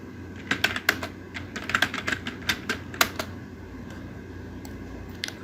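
Someone types on a computer keyboard while configuring a router in Cisco Packet Tracer. Irregular clusters of quiet, close clicks sit over a low, steady background hum, then fade to a single late keystroke.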